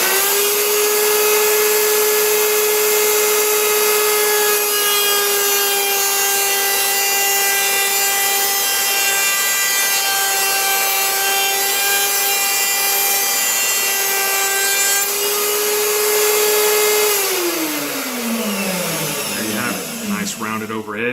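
Wood router rounding over the edge of a wooden display platform, a loud steady high-pitched whine with strong harmonics that holds for about seventeen seconds, then spins down as the bit slows.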